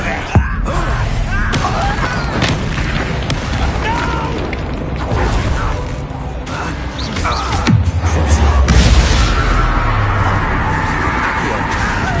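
A Bombarda spell in Hogwarts Legacy bursts with a sudden booming blast, followed later by another heavy rumbling impact, set against busy game sound and a speaking voice.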